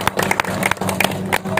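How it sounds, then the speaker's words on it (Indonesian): At the Piala Gubernur DKI 2022 event at PIK 2 Jakarta, a crowd bursts into close, loud applause, with sharp individual claps standing out over a steady wash of clapping. "tepuk tangan untuk kita semua"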